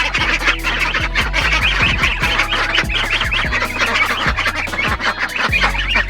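Ducks quack and chatter in a busy, overlapping flock close by, with scratchy rustling and low thumps underneath.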